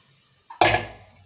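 Spices dropped into a pan of very hot oil: a small clink, then a sudden loud burst of crackling sizzle that fades over about a second, with no talking.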